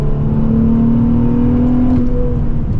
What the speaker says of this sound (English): I'm probably gonna hold it down a little bit longer just to really get the RPMs up